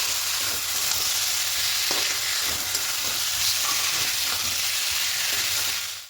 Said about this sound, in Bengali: এই ভেজে রাখা আলুগুলো দিয়ে দেবো। আলুগুলোর সঙ্গে একটু কষিয়ে নেব।